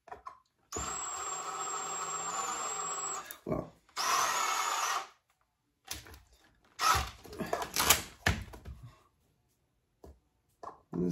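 Power drill whirring in several bursts of a few seconds each while assembling a wheel on a build project, loud and close with pauses and clunky handling noises between.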